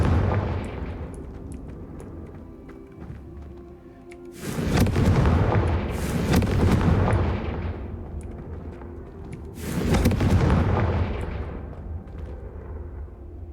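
Two heavy fiery blasts from the Confringo fire curse in Hogwarts Legacy, several seconds apart, each a loud booming burst with a long rumbling tail over steady background game ambience.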